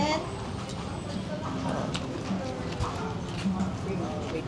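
Horse hooves clip-clop on a street in the heritage city of Vigan, Philippines, an uneven trotting rhythm heard at moderate distance under steady outdoor street noise and murmuring voices.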